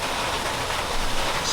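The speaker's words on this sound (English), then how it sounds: "It's starting to rain" Rain beginning to fall outdoors at a home garage during an LS engine swap on a car, a steady broadband hiss of drops on surfaces, fairly loud and with no voices.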